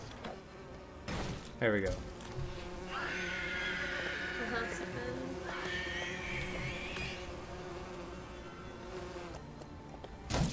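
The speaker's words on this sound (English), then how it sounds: "Apparently ring wraith's weakness is bees." Bees buzz in the Lego Lord of the Rings video game, a high droning hum rising and holding for several seconds in the middle, mixed with game music and effects while a person speaks briefly.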